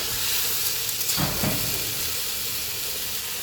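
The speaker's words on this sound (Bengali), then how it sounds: "ঝিঙে আলুটা আমি লাল লাল করে ভেজে নেবো।" Ridge gourd and potato fry in a pan, a steady close sizzle and hiss with a brief clatter of stirring partway through.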